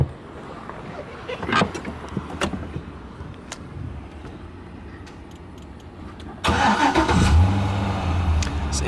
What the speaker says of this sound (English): This engine starts right up.